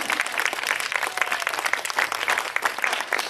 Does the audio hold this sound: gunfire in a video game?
no